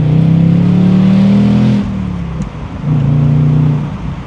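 A 2025 Ford Mustang GT V8 revs hard under acceleration, its loud, close engine note climbing in pitch, then dropping at a shift before pulling up again through the next gear.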